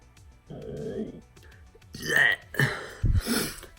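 Exaggerated voiced burps, a few drawn-out belches in quick succession, loud and close, with brief vocal sounds between them.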